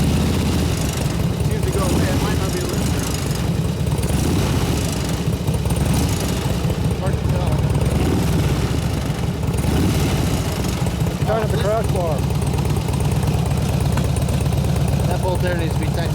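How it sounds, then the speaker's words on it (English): A 2004 Harley FLHT 88 twin cam touring motorcycle idles in a steady low throb with metallic rattling ticks over it, close up, while a person talks throughout. "it's not the lifter, it's the bike rattling."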